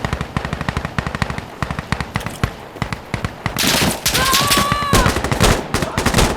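Rapid automatic gunfire from a budget machine gun in the shooter game Insurgency Sandstorm, loud close bursts of shots that swell into dense overlapping fire with distant battle noise behind.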